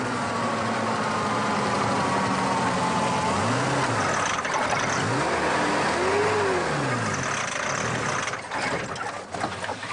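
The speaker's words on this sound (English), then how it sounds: "his vehicle inevitably breaks down" A vehicle engine revs and strains in rising and falling surges while breaking down on a rainy-season road in Liberia, loud and close, the pitch sweeping up and down several times before sputtering off.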